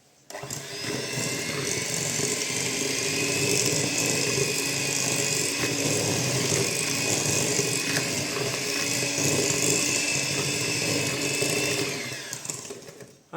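An electric mixer whirs steadily through muffin batter in a bowl, a continuous bright motor hum with faint scraping texture, starting and stopping cleanly with no talk.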